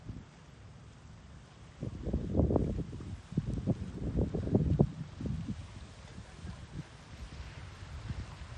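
Wind blowing across the microphone in rough, buffeting gusts, rising in the middle and easing off again, with low rumbling rustle throughout.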